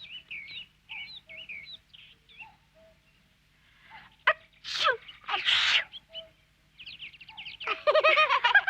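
An animated girl sneezes during a forest picnic with sharp, noisy bursts in the middle of the clip. Bright bird chirps come before and after, and a short wail-like sound follows.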